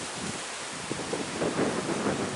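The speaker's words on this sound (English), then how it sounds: "Let the wind stop for a second here." Wind gusting across an open farm among rose plants, a steady broadband rush that swells slightly in the second half, fairly close to the microphone with no voices.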